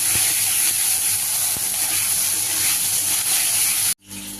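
Capsicum frying in a pan makes a loud, steady hissing sizzle close by, which cuts off abruptly near the end.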